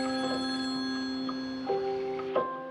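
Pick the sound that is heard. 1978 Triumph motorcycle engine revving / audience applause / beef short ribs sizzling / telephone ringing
telephone ringing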